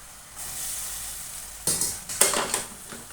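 Spices and peas sizzle in a hot pan for a Punjabi aloo matar paneer curry, with a soft hiss building into a few sharper bursts of frying and stirring near the end.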